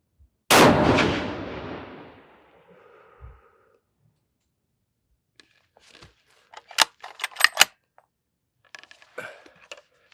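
A single 7mm PRC rifle shot cracks loudly at the range, its boom decaying over about a second, followed by quieter metallic clicks and clatter of the bolt being worked.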